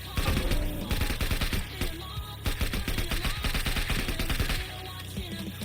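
Loud, dense automatic gunfire from the Dorkomon video game on PS5 rattles in sustained rapid bursts with barely any break, easing off near the end.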